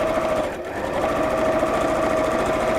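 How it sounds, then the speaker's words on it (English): A sewing machine stitches over the crease line of a pocket on a fold-over tie purse, giving a continuous fast mechanical whirr, close and steady throughout. "So I'm just sewing over that crease line."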